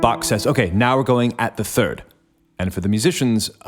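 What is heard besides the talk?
No everyday noise stands out behind the speech.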